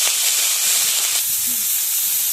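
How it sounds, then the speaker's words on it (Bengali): Cauliflower and potatoes frying in hot oil with salt and turmeric, a steady broadband hiss and sizzle running unbroken and fairly loud throughout, with no voices. "কপি আলু ভাজা হচ্ছে"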